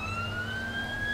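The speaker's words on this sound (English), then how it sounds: "I need some sirens so people get out of the fucking way" Vehicle sirens in the video game APB Reloaded, a steady rising wail held throughout at moderate level over low engine rumble, with no talk.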